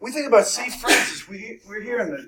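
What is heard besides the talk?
sneeze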